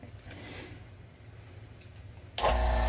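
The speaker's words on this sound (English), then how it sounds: "I just turned the vacuum chamber on" A vacuum chamber holding a cup of fishing bait switches on near the end, after quiet room noise, and settles into a loud, steady motor drone.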